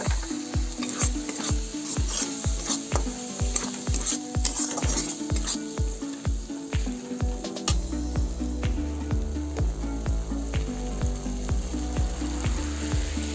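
Tomatoes and turmeric powder fry in a pan for a Bengali taro stem dish, sizzling steadily while a utensil scrapes and stirs in a quick repeated rhythm. The sound is close by, and no one speaks.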